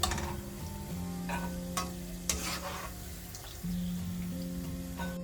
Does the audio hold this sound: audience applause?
no